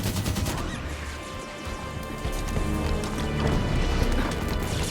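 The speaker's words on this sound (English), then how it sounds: "Turrets on and firing." Automated gun turrets firing in the Halo 5: Guardians video game, a dense continuous barrage of rapid shots and heavy impacts filling the scene for several seconds, loud and close with no talking.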